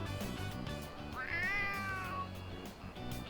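A stray cat in Persona 3 Reload gives a clear, rising then falling meow lasting about a second, close and distinct over steady background game music.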